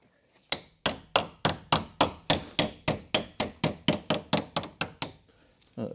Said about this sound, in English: now I'm going to have to hammer it over the polystyrene up in here